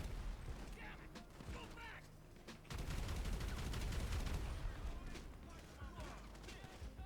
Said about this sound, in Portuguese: Tem muitas explosões na tela assim.